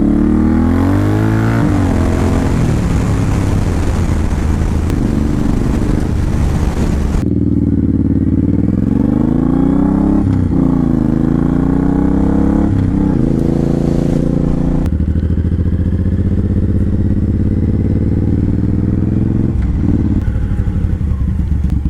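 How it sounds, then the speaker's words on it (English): A 2007 Suzuki M109R Boulevard motorcycle on a test ride, its big engine droning loud and steady throughout, with several rises and drops in pitch as it accelerates and shifts. "here it is again, 2007 M109R Boulevard, and just look, such a big bike."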